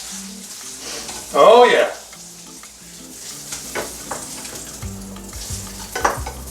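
Bologna slices fry in a pan with a steady sizzle, a louder burst of spattering as they are stirred or moved, and a brief voice heard over the cooking.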